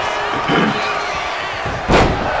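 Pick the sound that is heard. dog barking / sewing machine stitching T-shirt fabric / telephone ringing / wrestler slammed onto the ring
wrestler slammed onto the ring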